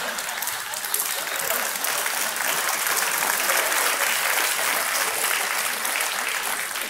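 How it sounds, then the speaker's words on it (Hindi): Studio audience applauding on the TV quiz show Kaun Banega Crorepati, a steady, dense wash of clapping that holds evenly throughout with no talk over it. "ताली क्यों बजा रहे हैं आप?"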